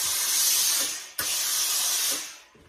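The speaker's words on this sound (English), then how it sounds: "pop a bit of steam on" Steam hisses in two bursts onto a beaver fur felt hat during restoration, with a loud, steady spray, a short break near the middle, then a second burst that fades out.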